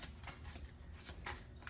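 Tarot cards shuffle quietly at close range, with soft riffling bursts and shuffles repeating several times with no one talking.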